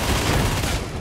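Dense, loud, continuous gunfire rips through Warhammer 40K Darktide, a sustained barrage of rapid shots with no talk audible over it.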